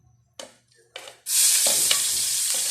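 Garlic browning in a pan: two short scraping stirs, then a loud, sustained sizzle close by with a few stirring scrapes on top.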